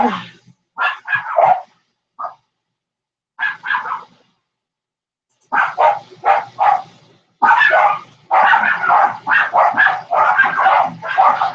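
Several dogs bark in loud, repeated bursts near the listener as someone arrives at the door, with short gaps between volleys and a sustained flurry toward the end.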